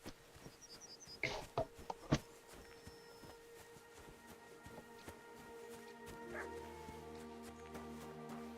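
A dog in the video game Kingdom Come: Deliverance II gives a few sharp barks close by, then falls quiet as faint game ambience and a low tone continue.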